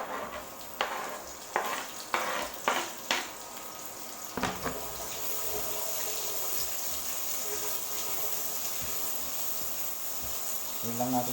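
Garlic and chopped onion are sautéed in a pan for chayote with corned beef. A few clacks of stirring come first, then a steady sizzle of frying holds through the rest.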